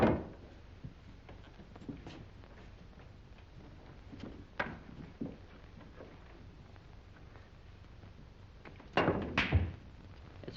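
Pool cue striking billiard balls during a game of pool, heard as a few sharp, separate clicks spread out over a quiet room, with a louder pair of knocks near the end.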